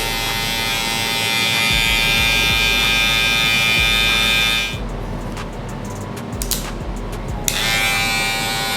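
Electric hair clippers fitted with a two guard hum with a loud, steady close-up buzz during a barber line up, briefly dropping to quieter cutting and clicking sounds before the full buzz returns, with no talk.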